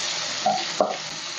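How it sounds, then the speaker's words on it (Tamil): Crushed small shallots drop into hot oil with fried cumin in a pan for drumstick leaf soup, a steady sizzle with two brief louder crackles as they hit and are stirred. "ஜீரகம் பொரிஞ்சோன்னா ஒரு பத்து சின்ன வெங்காயத்தை தட்டி வச்சுருக்குறோம் சின்ன வெங்காயத்தை சேர்த்துக்கிறோம்"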